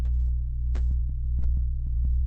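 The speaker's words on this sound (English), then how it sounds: "I apparently made sleep binaural audio too." Steady low sine tones for sleep, a continuous binaural-beat drone, hum alone throughout at moderate level, with faint brief ticks layered over it.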